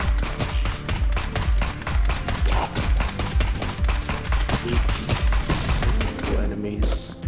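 Rapid gunfire in the video game Neon Abyss, a fast steady stream of punchy shots repeating for several seconds before stopping, with someone talking over the barrage.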